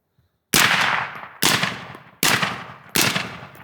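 Four loud, sharp rifle shots from an MK18 Mod 0 ring out close by, spaced under a second apart. Each crack decays quickly before the next.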